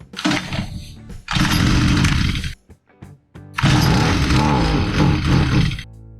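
Stihl FS45 string trimmer engine, just given a carburetor adjustment, roaring loudly at high revs in two sustained bursts separated by a brief drop to idle and near silence, close up with no talk.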